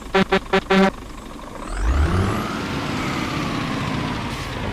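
A few short horn blasts, then a heavy truck engine in the video game On The Road: Truck Simulator revs up and settles into a steady, loud drone.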